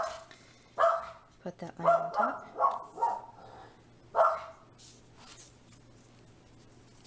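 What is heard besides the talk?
dog barking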